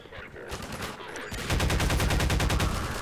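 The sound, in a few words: enemy gunfire in the video game Half-Life 2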